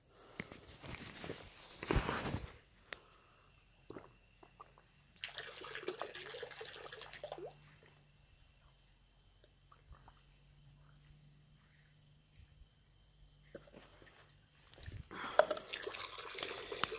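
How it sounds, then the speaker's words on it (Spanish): Water runs and drips into a set of six joined plastic multi-use tanks outdoors at a plant nursery in Puebla, Mexico, with soft trickling broken by louder splashy bursts and occasional footsteps. "Aquí está llegando agua bien bonito"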